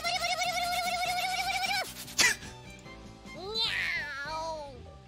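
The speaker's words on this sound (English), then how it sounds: "the cat sounds in this are absolutely awful" Synthesized cat meows from the visual novel game The Fruit of Grisaia, a few high, rising and falling mews following a brief musical tone and a sharp knock.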